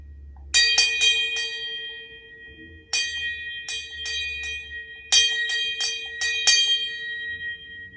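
A hand bell rings close and loud in three clusters of quick strikes, each leaving a bright, lingering metallic tone that decays between groups, in a quiet church setting.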